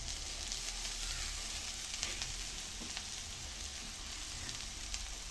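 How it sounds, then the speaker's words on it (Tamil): Coconut sautéing in a pan with dried prawn and ponnanganni greens, a steady close sizzle with faint stirring scrapes and no talking. "கொஞ்சமாக தேங்காய் போடுவோம். இதையும் சேர்த்து வதக்குவோம்."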